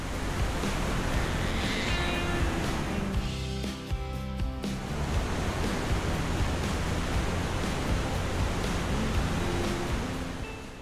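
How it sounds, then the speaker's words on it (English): Rushing water of the Rjukandefossen double waterfall on the Hemsil River in Hemsedal, Norway, a loud continuous broadband roar with wind buffeting the microphone. "This double waterfall is undoubtedly one of the most stunning and photogenic in all of Norway."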